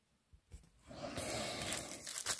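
Crinkly plastic packaging from a Temu order is torn and unwrapped close by, a few soft rustles building into a sustained crackling tear that lasts about a second and a half.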